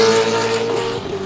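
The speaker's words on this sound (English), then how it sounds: "There's one of those GTXs, man. It's like a prototype that you would see in Le Mans." A GTX prototype race car at Sebring roars past nearby, its loud engine note holding steady harmonics that slide slightly downward as it moves away over about a second, with a broad rush of wind and tire noise underneath.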